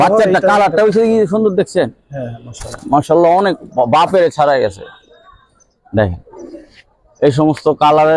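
Giribaz and other fancy pigeons coo in a loft while people talk over them, with the soft rolling coos mixed under loud nearby conversation.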